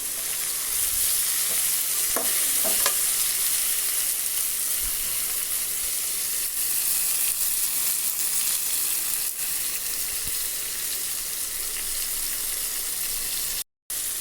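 Onions and tomatoes sauté with salt in a pan, a continuous close sizzle with occasional stirring scrapes and clinks over about fourteen seconds, with a brief dropout near the end and no talking.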